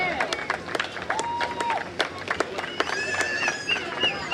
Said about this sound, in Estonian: Teeme suure aplausi talle.